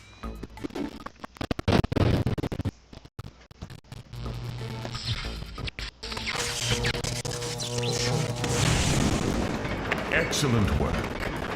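In the video game Whiplash, a fuse box is shot and blown up: sharp bursts of gunfire crack out first, then a heavy rumbling explosion swells and roars loudly for several seconds.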